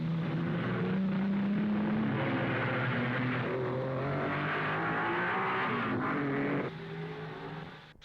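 Several 1955 Formula 1 race cars roar through the streets of Monaco during the Grand Prix, engines loud and close with rising and falling pitch as cars pass and accelerate, then the sound drops away near the end.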